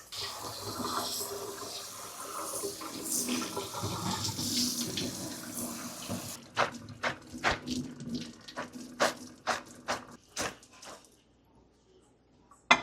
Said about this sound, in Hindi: एक दफ़ा ठंडा पानी ऊपर डालेंगे तो कुकिंग प्रोसेस रुक जाएगा।